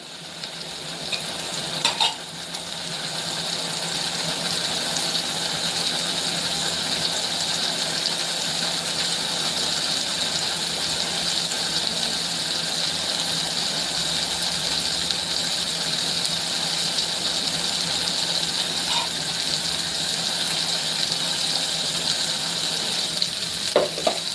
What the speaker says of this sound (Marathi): मसाला तेल सोडेपर्यंत आपल्याला परतून घ्यायचं आहे